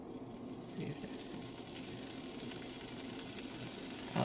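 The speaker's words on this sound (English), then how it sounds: "I like to pan fry it with a little bit of oil" Rice pan frying in a little oil, a steady soft sizzle running low under quiet background noise for the whole stretch, with a brief louder crackle near the end.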